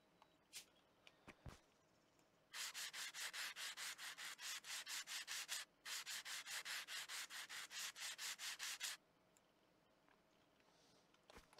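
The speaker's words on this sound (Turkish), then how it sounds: "Zımpara." Rhythmic sandpaper strokes from the video game Train Station Renovation, a long run of even back-and-forth rubs with one short pause midway, loud and close with no talk over them.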